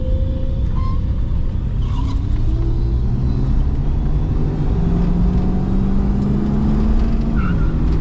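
A 1985 Ford LTD LX Police Package with a 5.0 V8 accelerates hard, its loud, steady engine drone climbing in pitch and then settling, with no talking.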